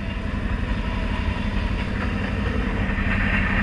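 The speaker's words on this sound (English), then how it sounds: "What's up, train?" A train rumbles past nearby in a swampy outdoor setting, a loud, continuous low roar with faint rhythmic clacking of wheels on rails and no talking.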